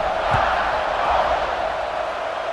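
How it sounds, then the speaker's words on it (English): A football stadium crowd roars and buzzes after a score, a loud, dense, continuous wash of massed voices filling the stands without a break. "this crowd is buzzing after that last score"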